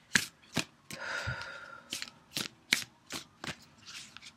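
Oracle cards being shuffled, a series of sharp riffling bursts and soft slides in an uneven rhythm, close and crisp with quiet gaps between.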